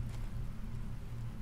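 Steady rain falls in the survival game The Planet Crafter, a continuous soft hiss with a low rumbling bed, heard alone without voices.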